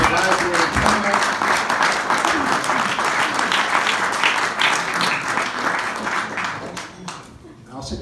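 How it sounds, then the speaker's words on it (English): Warm audience applause for Bob, the event organizer, at an awards presentation, sustained clapping with a few voices mixed in that tapers off at the end. "I think we ought to give Bob a round of applause."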